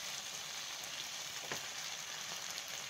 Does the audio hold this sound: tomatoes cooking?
yes